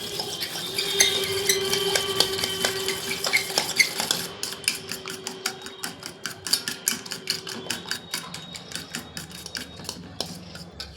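A utensil whisks a batter of chopped onion, ginger, garlic and chili in a bowl for eggplant fritters. It starts as a fast scraping clatter and settles into close, steady rhythmic clicking, with no voices.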